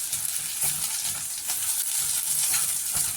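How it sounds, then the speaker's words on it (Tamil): Curry leaves and dried red chilies sautéing in a pan, a loud, close, continuous sizzle and crackle of hot oil, with faint rhythmic stirring scrapes beneath and no speech. "கருவேப்பிலை வரமிளகாயை சேர்த்துக்கலாம் சேர்த்திட்டு இதையும் நல்லா வணக்கிக்கலாம்"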